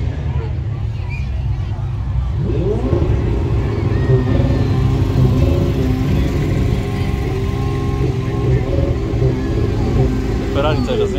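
A Ferrari engine on an Irish road drive revs loudly under continuous low road and cabin noise, with rising and steady engine tones sustained for several seconds while people talk in the background.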